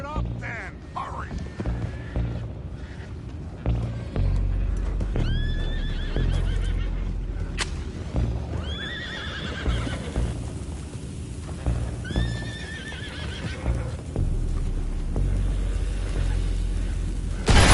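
Several horses whinny in loud, shrill bursts one after another in Red Dead Redemption 2, over rumbling hooves and commotion, with voices speaking at times.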